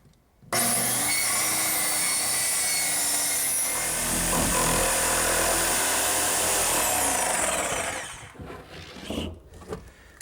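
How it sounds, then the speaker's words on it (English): A power saw cuts a hatch into the wooden seat of a hearthside settle, starting abruptly with a loud, continuous whining rasp that holds for several seconds, then winds down into quieter scraping and knocks as the cut finishes. "now all that's left to do is cut the hatch in the seat"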